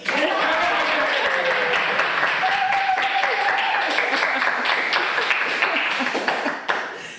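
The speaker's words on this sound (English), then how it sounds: "now give me an applause." Audience at a small music bar event claps on request, a lively continuous round of applause with some voices and a brief tone mixed in, tapering near the end.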